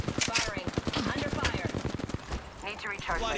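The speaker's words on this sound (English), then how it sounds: "He's shooting at me!" Rapid automatic gunfire in the shooter game Apex Legends, with dense bursts of shots close and loud, then easing off, under brief shouted game talk.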